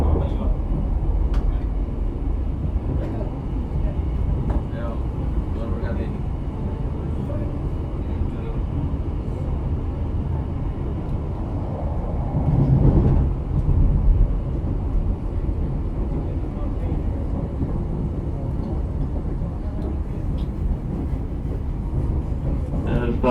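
Former Tokyo Metro 6000 series commuter train in KAI Commuter service between Cikarang and Angke, running with a steady low rumble and hum, a brief louder swell midway, and an onboard voice speaking over it.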